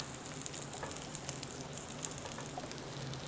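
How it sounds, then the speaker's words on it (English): Two sprigs of fresh rosemary fry in a pan over low heat with a steady, even sizzle and crackle that runs throughout, close and without talk. "Add in 2 sprigs of fresh rosemary and fry for about 30 seconds."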